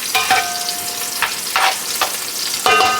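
Onions fry in rendered lard with a steady close sizzle, broken by a few scraping stirs and clinks of a utensil against the pan, and no one talks.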